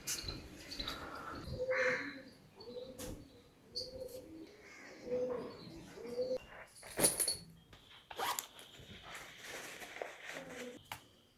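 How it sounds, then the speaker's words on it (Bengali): Birds call at dawn in a city. Soft pigeon coos repeat throughout, mixed with scattered chirps and tweets at moderate distance over a quiet background. "আর শহরের মধ্যে পাখির আওয়াজগুলো এই ভোরবেলা ছাড়া আর পাওয়া যাবে না।"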